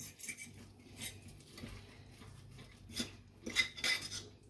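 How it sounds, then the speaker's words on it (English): A metal fork scrapes and clinks against the sides of a cooking pan holding stew, several short scratchy strokes and taps spaced irregularly, quiet and close. "I realized that I shouldn't scrape my fork against"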